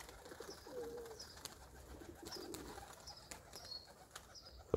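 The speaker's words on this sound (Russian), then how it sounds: "Голуби спокойно полетали и сели" Pigeons, including a marbled crested bird, flutter and settle outdoors early in the morning with soft cooing and light wing flaps, faint and intermittent against quiet background ambience.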